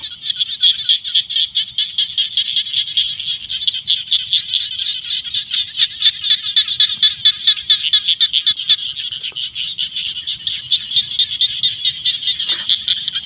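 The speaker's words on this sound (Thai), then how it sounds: "ฟังเสียงเขียดพี่น้อง" Small frogs croak from a green rice paddy in the evening, a dense, continuous chorus of rapid high-pitched trills that stays steady and fairly loud throughout, with a faint low background rumble and no talking.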